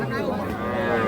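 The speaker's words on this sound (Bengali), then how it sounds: "এখানে দেখছি ষাঁড় বাচ্চা।" A young bull calf moos at the Ambari cattle market, a steady drawn-out bellow close by, mixed with the busy murmur of a market crowd.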